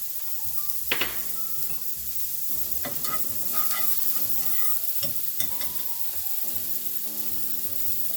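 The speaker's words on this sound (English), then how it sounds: "We're going to put some onions in here and caramelize these." Onions hit butter in a hot pan and sizzle steadily, with stirring and metal clinks of utensil against pan, while faint background tones run underneath and no one speaks.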